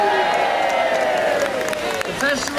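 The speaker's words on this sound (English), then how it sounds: "please join me in cheering them" A large outdoor crowd at a Hanukkah menorah lighting in Trafalgar Square cheers and whoops loudly in a dense, sustained roar, with voices mixed into the swell.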